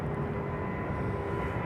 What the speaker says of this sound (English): Easy rotate for this Dreamliner.